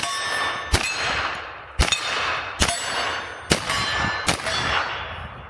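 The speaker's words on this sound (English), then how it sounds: "you can really hear the wallop of a 10mm" Five sharp metallic clangs of 10mm bullets from a Smith & Wesson FPC carbine striking a steel target about 40 yards away, spaced about a second apart over outdoor background noise.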